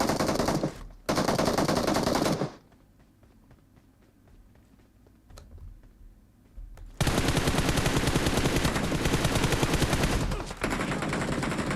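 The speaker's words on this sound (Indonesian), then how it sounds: "Tembak, Cil." Automatic gunfire in PUBG Mobile, loud sustained bursts opening the scene, a brief lull with faint scattered shots, then a long unbroken volley to the end.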